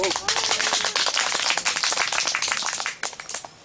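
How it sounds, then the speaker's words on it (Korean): Church congregation members, mostly elderly, clap for the children during a Sunday worship service, a fast, crowded burst of many hands that carries on steadily before thinning out at the end, with a faint voice near the start. "우리 어르신들 친구들 위해서 박수 한번 쳐요."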